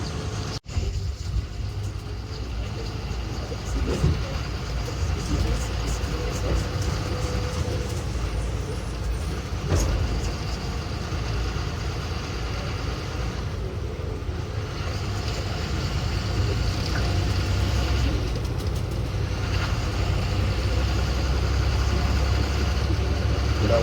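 A multi-axle lorry's diesel engine drones steadily from inside the cab while driving, a continuous low rumble with occasional knocks and rattles from the bouncing ride.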